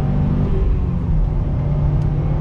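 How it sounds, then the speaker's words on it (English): A Subaru S209 accelerates on throttle in second gear as the turbo boost builds. The engine drone is loud, close and steady, and there is no talking. "On throttle, second gear, you wait for the boost to come in."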